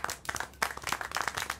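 A short burst of irregular hand clapping, fairly close and moderately loud, with a few quick claps in uneven rhythm.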